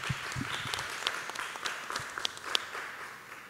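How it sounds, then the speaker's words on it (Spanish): Applause from a panel audience welcoming a guest onto the stage, a steady wash of many hands clapping with a few sharper individual claps standing out, moderately loud and continuing without talk. "La recibimos con un aplauso, por favor."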